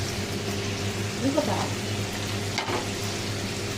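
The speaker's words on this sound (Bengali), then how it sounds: "তো চলো ফাইনালি এটাকে ভালো করে কড়া করে লাল লাল করে ভাজবো" Ginger-garlic paste fries in a hot pan, giving a steady close sizzle with occasional stirring scrapes throughout.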